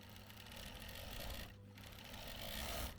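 A sewing machine overcasts fabric edges with a fast, continuous mechanical whir, close and steady, pausing briefly halfway before running on again.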